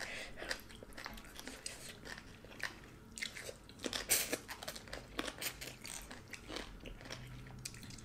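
Close, crisp crunching and chewing of spicy Thai papaya salad (som tam), a rapid series of sharp bites and crackly mastication up close and fairly quiet, with no talking.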